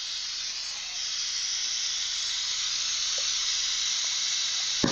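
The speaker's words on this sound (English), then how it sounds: "Little steam out of the radiator." Steam hisses steadily out of a car radiator, a continuous broadband rush that holds at an even level for about five seconds, with no voices over it.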